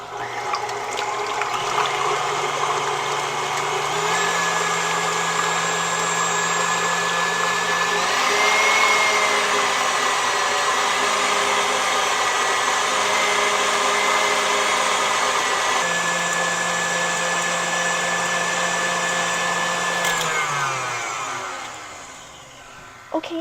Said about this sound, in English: we are going to beat this until it's all frothy before we start adding any sugar